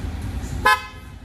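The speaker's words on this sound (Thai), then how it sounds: "เสียงแตรเดิมเอาไว้ใช้ในซอย นะครับเสียงแตรแต่ง เอาไว้คุยกับพี่ๆรถบรรทุกเขานั่นเอง" A short, sharp aftermarket horn toot on a Honda X-ADV 750 motorcycle cuts through a low engine rumble, then the idling noise fades out.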